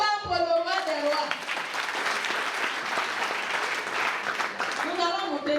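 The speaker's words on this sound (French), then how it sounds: "Allez, acclame pour le roi des rois." A Sunday church congregation in Guinea breaks into sustained loud applause and cheering, a dense continuous roar of clapping and voices that swells after a spoken call and carries on without letup.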